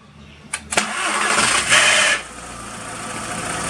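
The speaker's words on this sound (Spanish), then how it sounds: "vamos a volverle a dar encendido amigos. Y pues vamos a ver cómo arranca" A Volkswagen Jetta with a random multiple-cylinder misfire cranks with a few sharp clicks and catches, then the engine settles into a steady, fairly loud rough idle close by.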